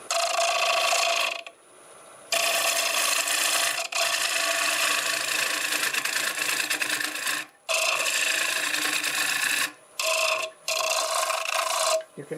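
A scraper cuts oak on a wood lathe with a steady, loud rasping scrape, running in long passes broken by a few short pauses.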